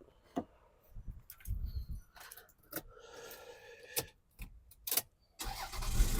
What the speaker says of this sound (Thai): สตาร์ททีเดียวติดนะครับ